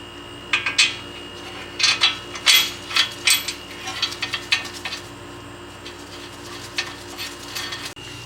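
A wrench works the bottom brake caliper bolt on a 2015 Nissan Quest, giving a run of sharp metallic clicks and clanks in uneven bursts, close and moderately loud, with no talking.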